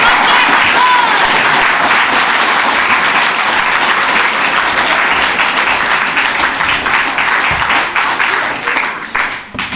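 A theatre audience applauds a performing group arriving on stage, loud dense clapping holding steady for several seconds before starting to thin out at the end.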